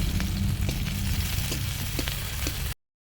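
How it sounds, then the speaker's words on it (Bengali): Onion sizzling in hot oil in a pan while cooking a pumpkin mash, a steady close crackle with small pops and stirring scrapes, cutting off abruptly near the end. "ভেজে নেব পেঁয়াজ"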